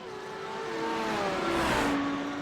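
Audi and Porsche GT3 race cars circle Daytona in a racing video game, engines droning and rising in pitch as one trails closely in the other's slipstream, a steady loud whine building to a peak then easing.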